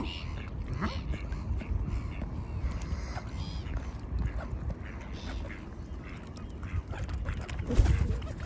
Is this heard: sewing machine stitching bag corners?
no